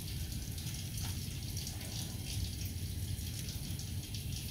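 Tap water runs steadily over hands being rinsed during a five-minute surgical scrub at a sink, a constant close hiss and splash with no talk.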